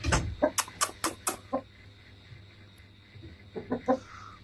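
A rooster clucks in a quick, loud burst of sharp calls near by, falls quiet against faint background hum, then gives a few more clucks.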